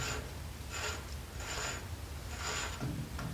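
A hub nut is threaded onto a semi truck spindle during wheel bearing and seal work, making close, rhythmic metallic scraping and ratcheting turns that come in short repeated bursts.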